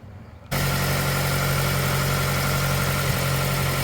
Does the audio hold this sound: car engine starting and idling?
yes